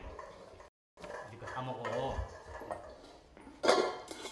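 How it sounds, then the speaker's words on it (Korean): Tiger cubs gnaw at and rattle a metal feeding bowl, making clinking, scraping knocks close by, with a louder clatter near the end and a voice speaking over it. "그릇까지 먹으려고 합니다."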